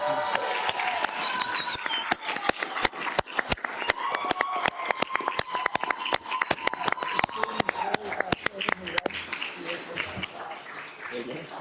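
Legislators in a session chamber clap together in a full round of applause, a dense, steady patter of many hands with sharp individual claps standing out, while voices and chatter carry underneath throughout.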